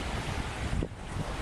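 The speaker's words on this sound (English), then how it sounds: "Windy day out here today" Steady wind rushes and buffets the microphone throughout, with a brief gust near the end and no talking, on a chilly afternoon in the Florida panhandle.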